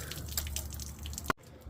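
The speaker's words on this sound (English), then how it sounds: "Once you have water coming out right there," Water draining and dripping from an RV Suburban water heater being flushed, a steady close trickle and splatter ending in a sharp drip or splash, then a brief quiet.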